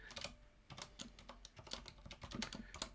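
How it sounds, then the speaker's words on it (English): Quiet, rapid keystrokes on a computer keyboard while writing Python code in an editor, tapping in an uneven but continuous rhythm with no voices. "as soon as I start typing"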